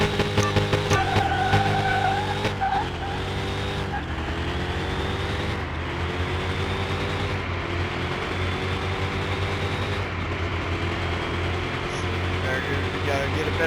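Car engine held at high revs through a drag race run, a loud, steady roar with gear changes marked by brief drops in pitch and level, with voices mixed in.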